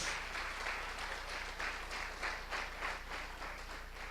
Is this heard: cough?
no